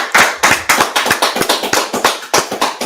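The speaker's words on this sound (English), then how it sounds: "Let's clap it up." A group of people claps their hands in uneven bursts, loud and close, with sharp slaps coming in quick clusters and brief gaps between them.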